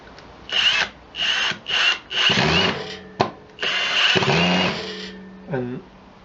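A Milwaukee FPD2 Fuel cordless drill set to clutch setting 4 whirs loudly in several short bursts, then one longer run, with brief pauses between, and a final quick blip at the end.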